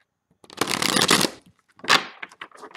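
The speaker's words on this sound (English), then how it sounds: "Okay, here's the last shuffle." Tarot cards are riffle-shuffled up close, in two quick crisp bursts with a short pause between them and no talking.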